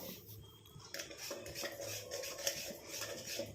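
A heated, thickened homemade hair-darkening mixture is stirred in a pan, giving soft scraping and light metallic clinks of a spoon against the pan. The sound is faint and steady, with no voices.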